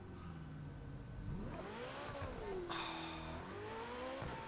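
A McLaren supercar's engine revs and accelerates in The Crew 2 racing game, a steady mid-pitched drone rising and falling in pitch as it climbs through gears, loud and continuous with a faint tire squeal.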